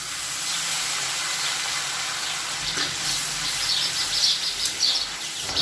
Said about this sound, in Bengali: কাঁচা লঙ্কা আর আদাটা ভাজা হয়ে গেছে